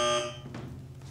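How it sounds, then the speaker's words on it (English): A game show buzzer sounds during a lightning round: one short, bright electronic tone that cuts off quickly and leaves a low background hum. "the buzzer keeps ringing"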